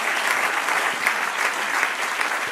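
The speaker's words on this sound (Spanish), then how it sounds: "Dame un aplauso al Señor." A church congregation breaks into dense, sustained applause during a sermon, loud and close, filling the space with rapid overlapping claps.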